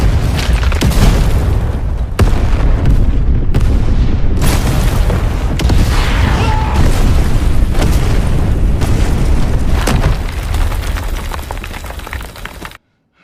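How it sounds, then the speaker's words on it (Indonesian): Tunnel explosion from the film Rambo: Last Blood: loud, dense booming blasts and rumbling debris fill the whole span, with repeated heavy bursts before cutting to silence at the end. "Pada saat Rambo meledakkan terowongan"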